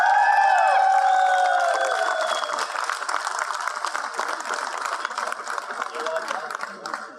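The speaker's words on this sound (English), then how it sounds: "Let's give him another round of applause." At Crypto Expo Dubai 2022 an audience applauds as a presenter comes on stage. Dense, steady clapping with some crowd noise continues throughout, moderately loud, after a fading musical sting at the start.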